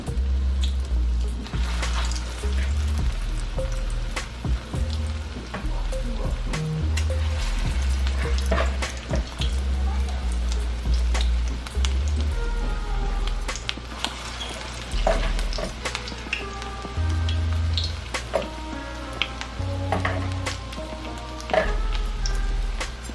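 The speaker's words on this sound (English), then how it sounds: "I'm going to put the second batch of fish cakes in the oil" Salmon fish cakes fry in hot oil with a loud, continuous sizzle and crackle, full of popping spatters and occasional scraping, close up with no talking.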